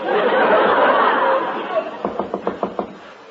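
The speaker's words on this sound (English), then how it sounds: "I'll knock on her door" Six quick, evenly spaced knocks on a door ring out as a radio comedy sound effect, following a stretch of audience chatter and laughter.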